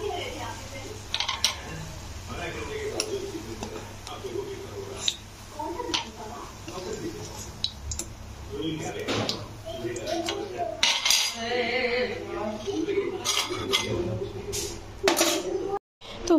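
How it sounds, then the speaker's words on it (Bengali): Fried lentil fritters being lifted out of a hot wok with metal utensils: irregular clinks, taps and scrapes of metal on metal, close by and moderately loud, under steady talk. "এগুলো আমি নামিয়ে আনবো কড়া থেকে"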